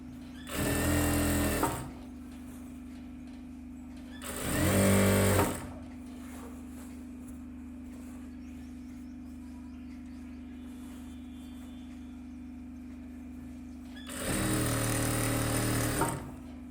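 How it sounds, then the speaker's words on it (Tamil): A sewing machine stitching the seam of a silk skirt, running in three short bursts of rapid mechanical chatter separated by quieter stretches with a steady background hum. "வெளிப்பக்கத்தில் ஓரமாக தையல் போட்டுக்கோங்க, லைனிங்கை சேர்க்காம."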